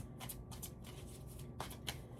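Tarot cards being shuffled by hand, a quiet run of crisp riffling bursts and soft flicks in an uneven rhythm, close and intimate, with a faint background hum.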